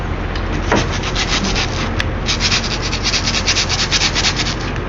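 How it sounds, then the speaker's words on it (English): The surface of a motorcycle inner tube is roughed up for patching, giving loud, close, rapid back-and-forth scuffing strokes in a steady rhythm. "rough up the surface of the tube and get off the shiny black part"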